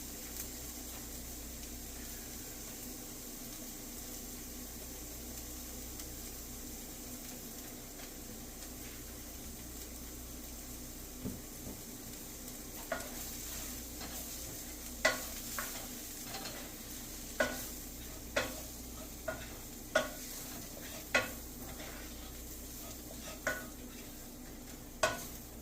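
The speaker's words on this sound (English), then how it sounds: "I'm going to add our curry powder, get that toasted up." Curry powder toasts in a hot pan with a steady low sizzle, while a utensil stirs and scrapes against the pan in a series of sharp clinks and scrapes during the second half.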